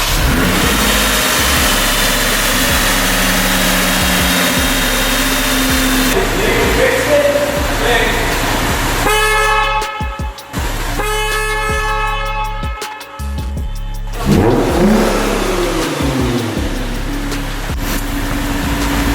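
2007 Lexus IS 350 V6 cranking and firing up after a throttle body cleaning, then settling into a steady idle with brief revs and surges, close and loud with no voices.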